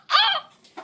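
A small Serama chicken, a tiny ornamental bantam breed, makes a short, close, fairly loud vocalisation followed by a softer second note a moment later, with no speech.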